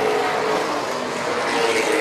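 Late model race cars roar past together on a track, a loud, sustained rush of engine noise that holds steady for a couple of seconds.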